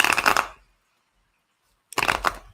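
Tarot cards are shuffled in two brief, crisp riffling bursts, close and fairly loud, separated by more than a second of silence.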